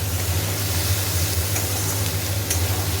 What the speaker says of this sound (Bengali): হলুদ দিয়ে ভালো করে একটু ভেজে নিই।